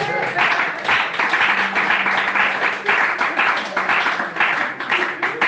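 A church congregation claps in a loud, rhythmic, sustained wave to acclaim the Lord, with voices calling out over the steady hand beats.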